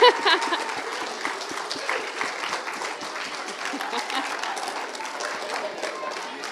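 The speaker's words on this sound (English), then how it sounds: "so we can give you a round of applause" An audience at a homeschool Christmas program claps steadily in a sustained round of applause, dense and fairly close, with voices faintly mixed in.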